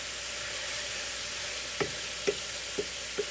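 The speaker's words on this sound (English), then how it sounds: "I'm gonna dump my mushrooms in. And just get those stirred up in there." Mushrooms frying in a pan with a low, steady sizzle, broken by four distinct scraping stirs near the end. Close and fairly quiet, with no talking.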